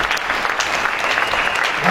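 A church congregation claps and cheers at a Christian revival service, a dense, loud burst of applause filling the space.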